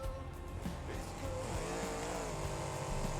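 Gravedigger monster truck driving in BeamNG.drive: a close, steady engine drone with shifting revs and a pitch climb partway through, continuous for a few seconds without speech.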